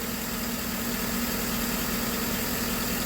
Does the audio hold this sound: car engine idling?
yes